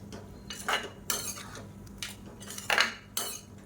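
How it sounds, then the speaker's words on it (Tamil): Soya chunks (meal maker) and egg stirred in a pan, a spoon scraping and clinking against the metal in five or six separate strokes, close and moderately loud, no speech. "தேவையான அளவுக்கு உப்பையும் சேர்த்துட்டு நல்லா கிளறி விட்டுக்கலாம்"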